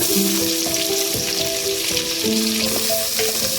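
Cumin seeds, onions and green chilies frying in ghee and oil for dal tadka, a loud continuous sizzle with crackling pops close up, no voices.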